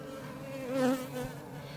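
Honey bees buzzing at a beehive, a steady close drone with one bee swelling louder as it hovers nearby before easing back into the hum.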